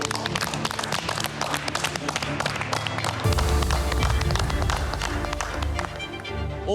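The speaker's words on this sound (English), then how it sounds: "give yourselves a big round of applause" Young cooks at a junior cooking competition burst into loud, sustained applause and clapping partway through, following quick tapping footsteps and movement at the start.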